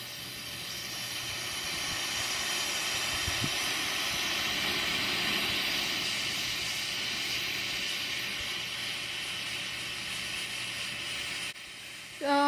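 A homemade rocket motor with its end cap removed burning its fuel during a static test, a steady roaring hiss that holds for about eleven seconds before cutting off.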